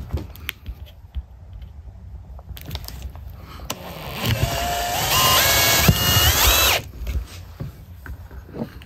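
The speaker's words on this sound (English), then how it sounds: "that's where I'll take my 1/4-inch drill bit." A power drill with a 1/4-inch bit bores into a GE pixel pole, whirring up and rising in pitch for a few seconds before stopping, with a few clicks and handling noises before and after.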